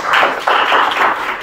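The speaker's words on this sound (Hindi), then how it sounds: "अभी भी हम भर देते हैं तालियों के गूंज से" A hall audience gives brief, dense applause, loud and close, in two swelling bursts with no talking.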